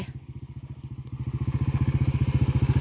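A motorcycle is ridden through woodland on a mushroom-hunting trip, its engine close and throbbing in a rapid, regular pulse that builds in loudness over a few seconds.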